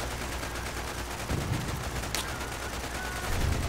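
Gunfire mowing down soldiers in the Toy Soldiers war game, a dense steady wash of shots and explosions with a few louder thumps standing out against the constant battle noise.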